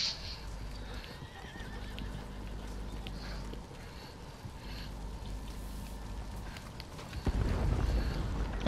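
A horse in the Western video game Red Dead Redemption 2 whinnies and gallops amid a chaotic gunfight, hoofbeats running steadily under wind and game noise before a louder burst near the end.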